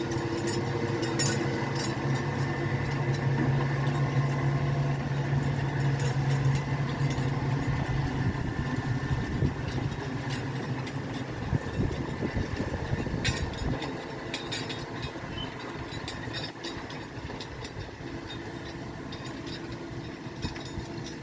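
A big tractor engine runs steadily while ploughing a field in the Drôme, a continuous low, droning rumble that holds fairly loud and even throughout, easing slightly toward the end.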